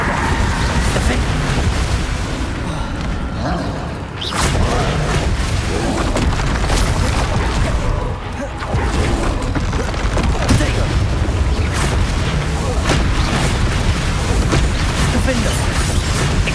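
Bombarda spell explosions in Hogwarts Legacy, repeated loud booming blasts in quick succession amid a dense, continuous barrage of spell effects, with a voice calling out spell names.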